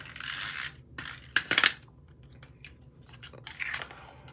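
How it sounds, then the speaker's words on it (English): Regular clear tape is pulled from a roll and pressed onto a handmade card, giving bright ripping bursts followed by quieter taps and rustles close by. "And I'm just using regular tape here."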